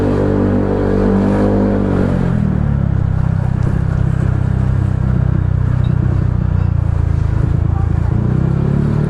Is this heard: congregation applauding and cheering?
no